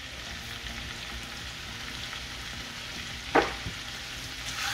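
Dal makhani with kasuri methi and cardamom being stirred in a pot, with a soft continuous sizzle and one brief scraping stir partway through.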